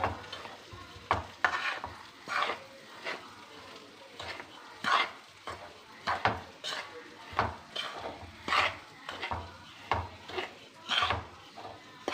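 Repeated scraping and stirring in a pan as rice flour is roasted, a steady rhythm of strokes with a soft sizzle underneath, close and moderately loud.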